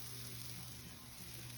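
A coconut barfi mixture with evaporated milk and melted butter sautés in a pan, giving a steady, soft sizzle and crackle that runs evenly without pause.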